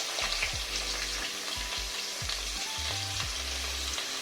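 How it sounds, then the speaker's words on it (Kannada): Onions fry in coconut oil in a clay pot, with a steady close sizzle and crackle, broken by low thumping knocks and scrapes as the pieces are stirred around, and no voices. "ಈರುಳ್ಳಿ ಇದನ್ನ ಇದರಲ್ಲಿ ಮಡಿಕೆಯಲ್ಲಿ ಹಾಕ್ಬಿಟ್ಟು ಒಂದ್ಸತಿ ಉರಿತೀನಿ"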